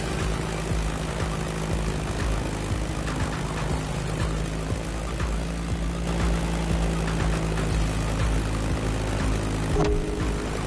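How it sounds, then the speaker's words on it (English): A Beechcraft Staggerwing propeller biplane flying in The Crew Motorfest, its radial engine droning steadily and close with a constant low hum and buzzing propeller tone for the whole stretch. "That Beechcraft Stagger Wing is truly a beautiful piece, isn't it? And a great choice for that flight."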